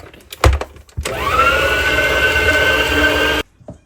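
An electric mixer fitted with an attachment whirs steadily while blending mango pulp with sugar for amrakhand, a loud sustained motor drone lasting a few seconds after brief clatters, then stopping.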